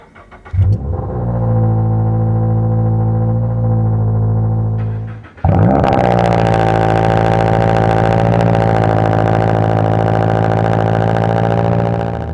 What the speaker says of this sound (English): it's got a fairly loud cold start. Obviously, with it being the track edition, it is just a straight pipe.